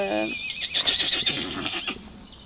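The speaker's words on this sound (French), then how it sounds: "mon Didou, t'appelles les copains?" A pony whinnies close by in a high, wavering neigh lasting about two seconds, with someone speaking over part of it.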